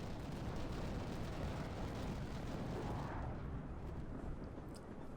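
Carpet bombs blast a target area in the war game Global Operations, a dense, sustained roar of overlapping explosions and rumbling booms that keeps up throughout at steady high volume, easing slightly near the end.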